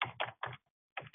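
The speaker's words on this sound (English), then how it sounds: "I'll just type it in now" A web address is typed on a computer keyboard: a few quick, soft key taps in a short burst, a brief pause, then one more tap, close and quiet.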